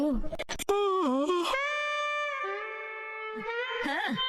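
A long, drawn-out human yawn starts with a few short vocal sounds, then stretches into a sustained groaning tone that fades and trails off into a brief murmur.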